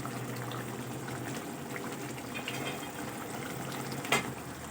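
Whole cumin and poppy seeds are stirred into a fish curry in a pan, making a faint, steady sizzle with one short scrape or clink near the end; nobody speaks.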